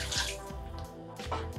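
Water is poured into a pot on a kitchen stove for a red beans and rice dish, a short, splashy, fairly quiet pour in two brief bursts with no voices.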